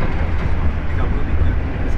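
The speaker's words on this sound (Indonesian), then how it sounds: "Kecepatan kereta api Jakatingkir udah tembus di angka 111 km per jam." Inside the Jaka Tingkir economy train on the Jakarta–Yogyakarta line while it speeds along at over 100 km/h, a loud, continuous low rumble and rolling roar from the rails and carriage fill the space.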